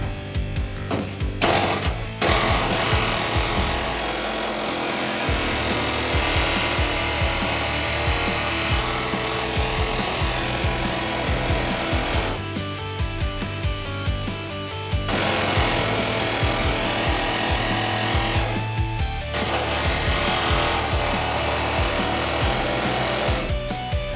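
Repeated hammering on a sheet metal floor panel of a 1971 Dodge Charger in a workshop, a rapid, loud, continuous run of metallic blows broken by a few brief pauses.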